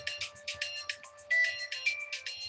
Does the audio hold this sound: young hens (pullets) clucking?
no